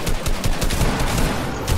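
Rapid gunfire rings out in a first-person shooter video game, a dense burst of repeated shots that stays loud and close throughout the short moment.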